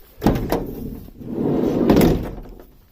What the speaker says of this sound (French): Le truc, c'est qu'il y a aussi une porte latérale.